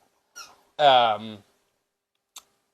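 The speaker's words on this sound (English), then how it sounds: "Here's Lucy the dog in the corner playing with her squeaky toy." A dog plays with a squeaky toy in the corner of a room. A faint short squeak comes first, then a louder, longer, high-pitched squeal, and a tiny squeak follows after a pause. The sounds are close and stand alone, with no talk.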